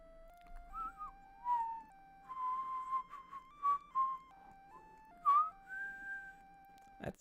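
A person whistles a bright, wavering tune in short bursts over a low, steady chiptune game soundtrack from Pokemon Green, the notes sliding up and down close to the mic, ending on a sharp click.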